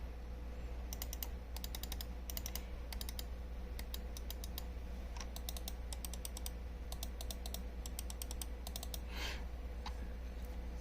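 Replacement GM4 switches in a Logitech G604 gaming mouse clicking in rapid bursts of crisp ticks, repeated in clusters over a steady low hum.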